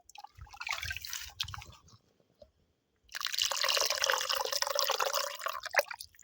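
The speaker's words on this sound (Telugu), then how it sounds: "ఇప్పుడు ఈ చింతపండు పులుపుని అయితే దాన్ని కొద్దిగా పోసుకుందాం." Tamarind water poured from a vessel into a cooking pot outdoors in a forest village kitchen, making a bubbly liquid splashing and trickling that starts, pauses briefly, then returns louder and steady, close by with no talking.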